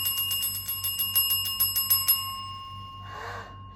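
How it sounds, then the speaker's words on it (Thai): A bicycle bell rings rapidly over a dozen times in a steady trill, then stops, followed by a short breathy sound. "เสียงกริ่งดังมาแต่ไกลเลย แล้วมาอย่างเร็ว"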